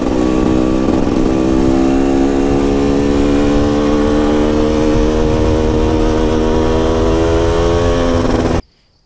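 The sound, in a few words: GasGas motorcycle engine revving through six gears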